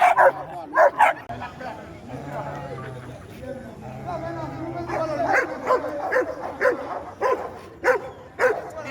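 Fearful, aggressive dog giving short sharp barks and yips in several bursts, mixed with whimpering, while a person talks in French over and between them.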